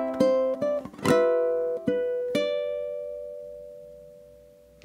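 A ukulele plays a slow ragtime phrase from The Entertainer, several plucked notes and a strummed chord ringing close and clear, the last note sustaining and fading.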